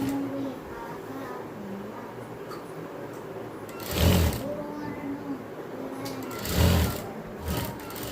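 A sewing machine stitches the crotch seam of a pair of kids' circular palazzo pants, running in short bursts with quieter hum between them.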